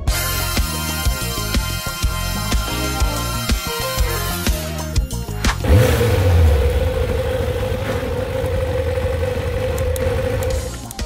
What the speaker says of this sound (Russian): этот мотоцикл может передвигаться и, более того, ехать очень бодро